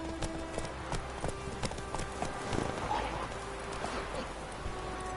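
Roach the horse galloping in The Witcher 3, a rhythmic clip-clop of hooves running steadily under a constant low ambient hum, fairly close and moderately loud throughout.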